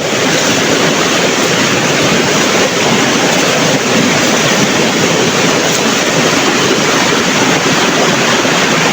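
Water rushes hard and steadily past a traditional fish and crab trap as the current strengthens. The roar is loud, dense and unbroken, close to the microphone, with no talk.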